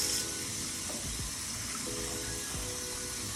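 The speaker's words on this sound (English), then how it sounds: "So I'm gonna rinse this a couple times." Water runs and sloshes steadily in a sink, with occasional splashes and gurgles as beets and sea moss are rinsed, no voices present.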